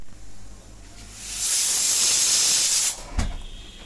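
A pressure cooker whistle vents steam in a loud, sustained hiss lasting over a second, swelling then cutting off abruptly, followed by a brief clank; close and alone, with no talk.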